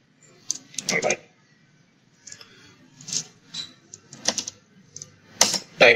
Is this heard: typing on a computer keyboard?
yes